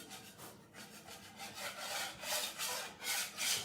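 Steady back-and-forth rubbing distressing a painted wooden sign, a rhythmic rasping scrape repeated many times at close range.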